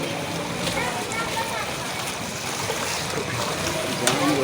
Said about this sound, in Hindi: और लगातार पानी बहता जा रहा है।